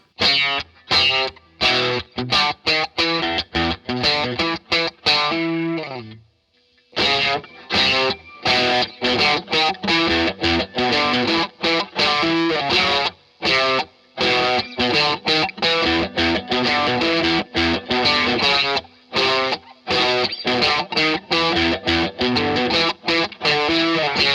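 An electric guitar through drive and chorus pedals, overdriven and chorus-shimmered, plays a rhythmic riff of choppy strummed chords, loud and continuous apart from a short break.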